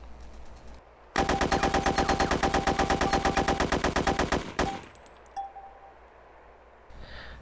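AK assault rifle emptying a magazine on full auto at a target in the video game DayZ, a loud, rapid unbroken burst of roughly three seconds, then fading echo and quiet with a faint click.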